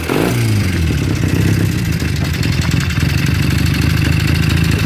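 A 1957 Velocette Valiant 200cc motorcycle running close by: a loud, busy mechanical idle with a rapid, even exhaust beat and a clattering valve-train rattle, holding steady after a brief rise at the start.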